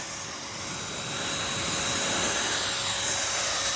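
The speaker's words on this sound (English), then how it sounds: "All we need to do is turn on the sprayer. You can hear the air coming." A Wagner fence and garden paint sprayer blows a continuous, loud rush of air close by, the steady whooshing hiss swelling slightly and then holding even.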